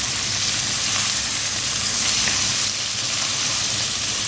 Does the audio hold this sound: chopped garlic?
yes